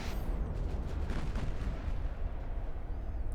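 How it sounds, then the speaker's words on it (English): A salvo of high-explosive shells fired from a battleship's naval guns in Ultimate Admiral: Dreadnoughts, heavy booming rumble and rolling low blasts sustained at moderate level with no speech. "Fire 1 salvo of HE."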